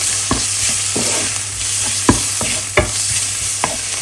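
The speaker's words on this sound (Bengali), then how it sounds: "তো এটা আমি একটু ভেজে নিই।" Oats fry in a pan for khichdi with a constant close sizzle, punctuated by sharp scraping taps of a spoon stirring against the pan several times, irregularly spaced.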